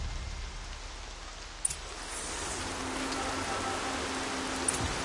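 Steady rainfall in the video game Horizon Zero Dawn, a dense even hiss of drops filling the scene, with two faint brief ticks standing out against the continuous wash and no talking.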